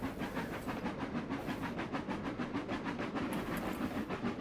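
Rhythmic clickety-clack of a freight train running over points in the Trainz railway simulator game, a steady loud rumble with repeated wheel clicks and no talk.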